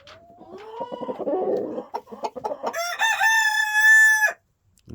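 Soft clucking and scratching give way to a single loud, close rooster crow that rises and holds before cutting off.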